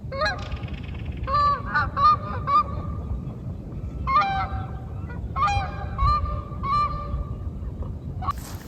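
Several geese honk in bursts in Tofino, British Columbia, harsh repeated calls overlapping over a steady outdoor background rumble, fairly loud and close.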